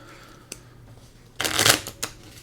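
Playing cards shuffled for a card game: a few faint ticks, then one loud, close riffle lasting about half a second, followed by a single short snap as the deck is squared.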